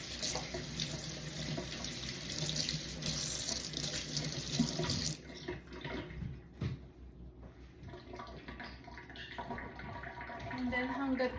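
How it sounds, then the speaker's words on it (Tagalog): Tap water runs steadily into a kitchen sink as hands are washed, a close, full splashing stream that thins and turns into scattered splashes and handling noise. "Then magugas lang ako ng kamay."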